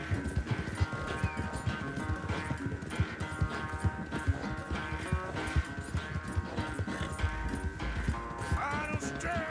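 A horse gallops in Red Dead Redemption 2 during a train chase, its clip-clop hoofbeats running in a steady fast rhythm through the whole stretch over game music and ambience, with a brief whinny near the end.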